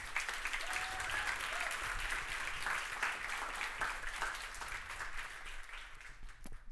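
Steady applause from an award ceremony audience for the finalists, heard at some distance and fairly soft, sustained evenly throughout with a faint voice or two underneath.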